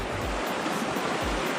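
A small stream in the Zion Narrows, flowing water as a close, steady broadband rush with no pauses.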